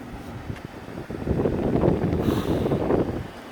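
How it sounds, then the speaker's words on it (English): An air conditioner unit pushes a strong, steady rush of air out of its back. The breathy roar sits close to the microphone and swells slightly partway through. "Blowing pretty good air out the back, isn't it?"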